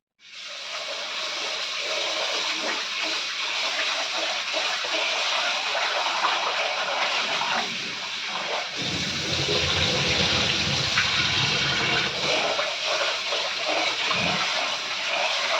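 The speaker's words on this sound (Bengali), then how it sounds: "সেই জন্যে চালটাকে আগে ধুয়ে নিলাম" Rice being washed in water in a kitchen. Running water pours steadily and close by, with a deeper swishing slosh in the middle as the grains are stirred.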